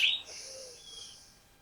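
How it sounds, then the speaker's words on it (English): A short bird chirp rings out at the start during a seated chair yoga session, followed by faint, quiet outdoor ambience with a soft fading tone. "The birds are singing for us today."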